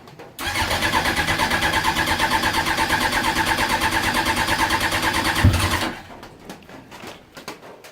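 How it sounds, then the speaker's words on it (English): A winterized racing motorcycle engine with empty carburetors is cranked on full choke. It gives a loud, rhythmic, pulsing churn for about five seconds before cutting off, and then only faint rattles remain. "So we're gonna fire it up, full choke, and away we go."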